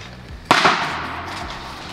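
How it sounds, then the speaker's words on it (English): Firecrackers go off in a park in Valencia: one sharp, loud bang near the middle, followed by a crackling burst that fades into a lingering rumble of street noise. "People are throwing firecrackers all over the place."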